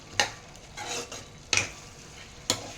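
Mutton kheema frying in a pan, stirred with a spoon: three sharp scraping strokes at steady intervals over a constant soft sizzle, close up, with no talking.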